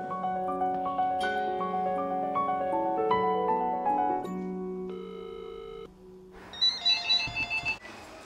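A telephone rings for a restaurant call during a tense televised cooking competition, with a melodic electronic ringtone repeating over several seconds before fading into a brief pause and then a few short bursts of sound.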